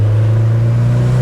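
A turbocharged Mitsubishi Lancer Evo 8 engine holds a loud, steady revving drone at 4,000 RPM close by, deep and sustained with no voices over it.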